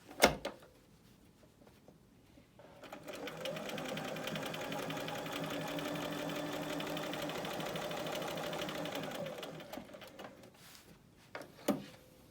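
A sewing machine runs a 3/4 inch seam on a jewel panel, a steady mechanical whir for several seconds, framed by brief clunks of handling before and after, with quiet gaps at the start.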